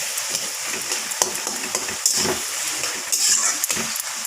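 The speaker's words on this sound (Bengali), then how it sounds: "ঢাকনা উঠে নিচ্ছি, আবার নেড়ে ছেড়ে দিচ্ছি।" A spoon stirs bottle gourd and prawn curry in a sizzling pan, giving steady frying hiss with scraping and light metallic clinks throughout, close and moderately loud, with no talking.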